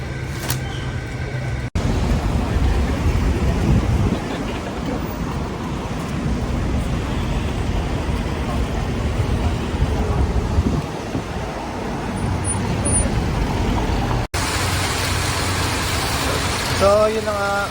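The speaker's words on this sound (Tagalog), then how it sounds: "Umaaraw pero umuulan." Steady rain falling outdoors in Singapore during sunshine, a dense, even hiss that runs the whole time with brief cuts, with a low rumble from nearby traffic or a bus underneath.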